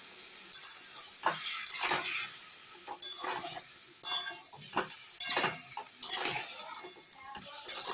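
Cauliflower with chilli powder, salt and a little water is stirred in a pan for rohu fish curry: a spatula scrapes and clinks against the metal in repeated strokes over a soft sizzle, close by and without speech.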